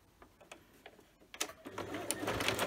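A sewing machine stitches a fabric basket for a Christmas craft, starting with soft, scattered ticks that build into a steadier, louder whirring run of stitching, close by and without talk.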